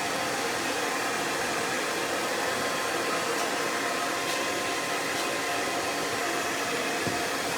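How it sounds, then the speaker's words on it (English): Hair dryer blowing steadily and loudly at close range while blow-drying a mullet haircut back and forth, a constant airy roar with no voice. "I'm just going to blow dry everything back and forth through a classic wrap."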